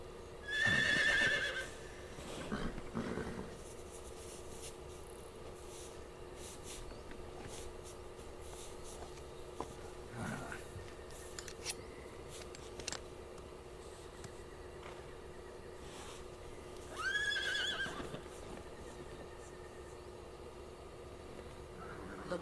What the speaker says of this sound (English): nice little subtle hint about with the horse neighing right there